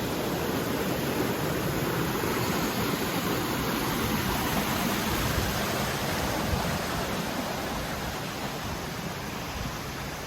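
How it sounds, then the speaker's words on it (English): A running stream in the forest of Grayson Highlands, a steady, dense broadband rush of water that stays loud and even throughout, with no voices. "I love hiking near the sound of running water"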